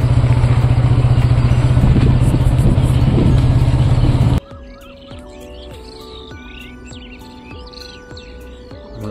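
A motorcycle engine idles loud and steady beside fields full of birds, then cuts off abruptly as the riders stop the bike, leaving close bird calls and chirps in a quiet open landscape.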